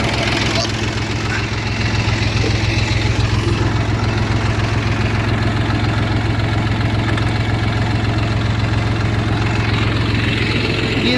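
A small tractor engine chugs steadily in low gear while hilling potatoes in a field, a close, continuous rumbling drone with knocking vibration throughout.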